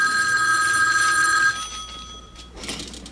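A telephone bell rings loud and close in a home sitcom scene, one sustained ring that cuts off partway, followed by quiet room sound.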